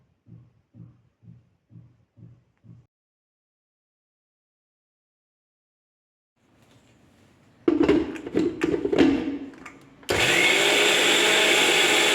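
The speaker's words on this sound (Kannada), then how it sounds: "ಟೊಮೊಟೊ, ಶುಂಠಿ, ಬೆಳ್ಳುಳ್ಳಿ, ಈರುಳ್ಳಿ ಇವೆಲ್ಲವನ್ನು ಮಿಕ್ಸಿ ಜಾರ್ಗೆ ಹಾಕ್ಕೊಳ್ಳೋಣ." Short rhythmic thumps first, then silence, then a mixer grinder starts in bursts. It settles into a loud steady whir as it grinds tomato, ginger, garlic and onion in the jar. There is no talking.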